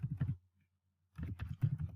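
Computer keyboard keys clatter in two quick bursts of typing while code is entered, a short pause of silence splitting them, close and moderately loud with no voices.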